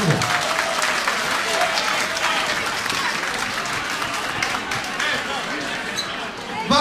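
An evening audience in Velika Kladuša gives the host, a Radio Zapadna Bosna editor, a loud, sustained round of applause, dense crowd clapping filling the room with faint voices underneath.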